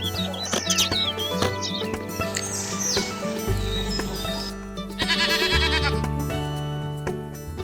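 Cashmere goats bleat repeatedly at close range, several overlapping calls rising and falling over a busy farmyard background with other livestock noise.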